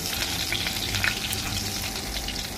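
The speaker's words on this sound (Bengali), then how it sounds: "এবার মাছগুলো তেলের মধ্যে ভেজে নেব।" Fish pieces frying gently in oil in a pan, giving a continuous, even sizzle with light crackling throughout at moderate loudness.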